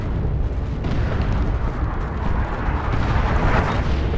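An artillery barrage in the video game Dawn of War II pounds the area with a continuous, loud rumble of overlapping explosions and booms, dense and close throughout, with no voices heard.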